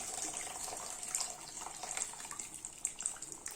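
Dissolved tamarind water poured into an Aara Meen Kulambu fish curry, a steady, faint liquid splashing and trickling for a few seconds without speech.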